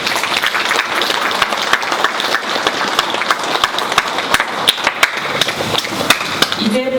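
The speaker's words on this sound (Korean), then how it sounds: "자리해 주신 모든 분들께 따뜻한 박수 부탁드립니다." Applause from an audience at a walking-and-welfare forum: dense clapping from a medium-sized crowd, steady and fairly close, lasting several seconds and fading near the end.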